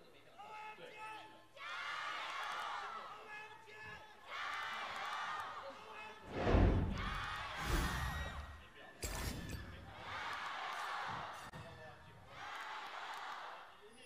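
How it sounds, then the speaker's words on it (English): Crowd at a League of Legends LPL esports match between OMG and Rogue Warriors, with bursts of cheering and whooping that rise and fall across the hall, alongside loud announcer-style shouting and voices. "Let's hear it from the crowd."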